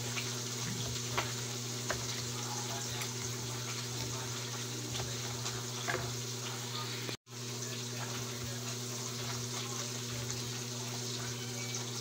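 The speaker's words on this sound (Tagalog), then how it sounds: "hindi pa ako tapos mag-prito" Steady sizzling of food frying in a pan, a continuous crackling hiss with a brief cut partway through and no talking.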